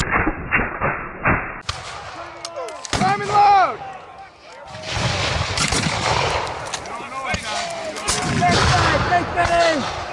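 Musket volleys ring out across an open field at an American Revolution reenactment battle, loud sharp reports in quick succession with shouted commands and voices between the shots.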